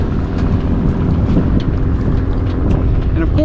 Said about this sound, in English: as we get closer to the harbor, as usual, the wind is picking up a little bit